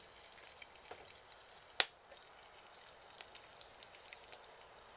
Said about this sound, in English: Then we add the peeled almonds and fry them for a few seconds.